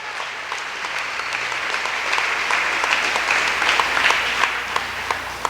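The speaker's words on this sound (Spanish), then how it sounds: "Ese aplauso es para Jesús" Congregational applause for Jesus during a church service, a broad, sustained wash of many hands clapping that swells slightly, with a few louder individual claps standing out.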